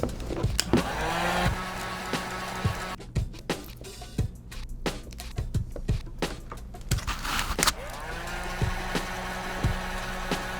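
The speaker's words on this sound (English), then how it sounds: "grab a heat gun, go over it" Heat gun blowing over the material of custom Nike cleats being customized, a steady close airflow roar that cuts out midway amid scattered clicks and handling, then starts again and runs to the end.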